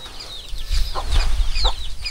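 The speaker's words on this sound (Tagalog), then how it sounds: "Oh, wala, ang daming sisiw." Chickens and chicks around a hut give short clucks and high chirps over a low rumbling background, close by and fairly loud, with no talk.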